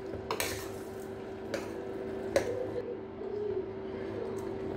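Cabbage stirred for pancit in a metal pan, with a few sharp utensil scrapes and clinks against the pan over a steady low kitchen hum, close and moderately quiet.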